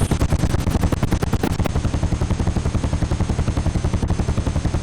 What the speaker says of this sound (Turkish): O zaman bir helikopter kaldırmayalım mı?